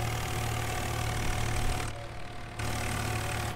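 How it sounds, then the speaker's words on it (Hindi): A tractor engine in Farming Simulator 19 drones at full RPM, a steady loud low hum that dips briefly and then returns, with no talk. "फुल आरपीएम पे चल रहा अपना ट्रैक्टर, फुल आरपीएम"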